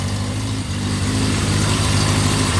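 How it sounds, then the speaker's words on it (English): Close, steady idle from the exhaust of a Yamaha XJ900F inline-four motorcycle, a low, even burble with a slight dip near the start, continuing alone with no voices. "Nice burbling exhaust."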